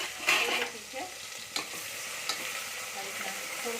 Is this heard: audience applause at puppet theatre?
no